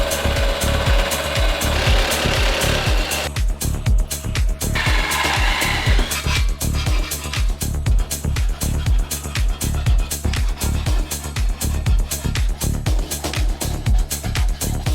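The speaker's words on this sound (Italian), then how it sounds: "Noi utilizziamo sgolatubi che facilita un po' il lavoro." Tube notcher milling steel tube for a cargo bike frame, a loud continuous grinding and chattering cut with a rapid pulsing rhythm, close up and running for the whole stretch.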